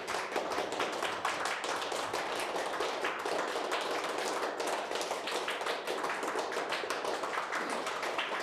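A crowd applauds continuously in dense, even clapping at moderate volume, with no voices standing out over the steady patter.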